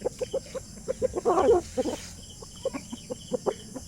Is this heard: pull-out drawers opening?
no